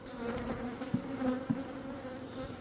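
Honey bees buzz steadily around an open hive during a colony split, a dense close drone of many wings with a couple of brief louder bursts as bees pass near.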